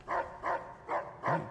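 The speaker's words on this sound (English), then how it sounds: "Bark at him, Rex." Rex, a dog in Fallout New Vegas, barks four times in even, evenly spaced woofs, moderately loud and close, with no talk over them.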